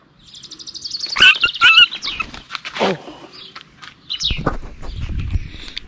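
A grounded bird that cannot fly gives bright, rapid chirps close by, with rustling and handling noises, then low rumbling scuffs toward the end.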